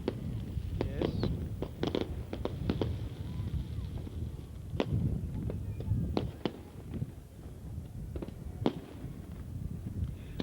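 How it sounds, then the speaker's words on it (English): New Year's night fireworks rockets burst in scattered sharp bangs at a moderate distance, irregular pops over a rumbling background with voices murmuring throughout. "big rockets and up they go, bang, bang, bang, and pretty colours"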